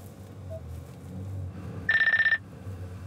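A phone call rings through the hands-free system of an Infiniti QX80 luxury SUV: one short, bright, warbling electronic ring burst over the low hum of the cabin.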